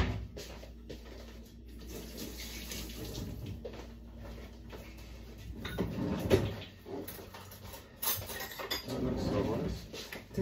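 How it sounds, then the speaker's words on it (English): Kitchen clatter as a spoon is fetched and food is put into a bowl: scattered cutlery clinks, cupboard knocks and dish sounds with running-water-like noise, close and moderately loud. "Put it in the bowl, let me get a spoon."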